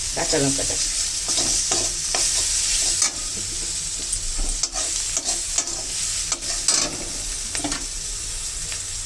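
Green chili paste fries and sizzles in a pan while a fish and taro curry is cooked, a steady close hiss broken by scraping and stirring noises from a spatula throughout.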